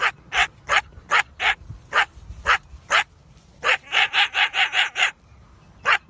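A dog barks and yelps at a coyote in a series of sharp, loud, close barks, first spaced apart and then in a quicker burst, with no talking.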